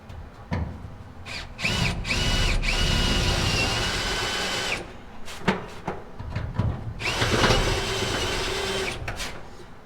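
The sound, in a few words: power drill drilling out a spot weld on a 1970 Dodge Charger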